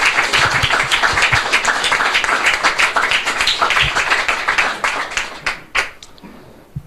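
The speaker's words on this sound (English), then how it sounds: "A big applause to the Russian team." An audience at an innovation award ceremony in Birmingham claps steadily and loudly for several seconds, a dense sustained patter that thins out into a few scattered claps at the end.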